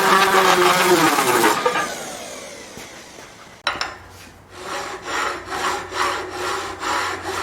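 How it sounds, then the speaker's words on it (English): Orbital sander cleaning up an aluminium plate for a motorcycle top box rack, a broad buzzing grind that cuts out midway, then resumes in rhythmic surging strokes, close and loud. "Just going to clean that up by hitting it with the orbital sander."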